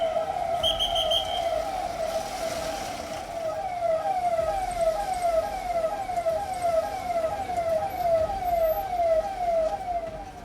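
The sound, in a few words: siren of ambulance with police escort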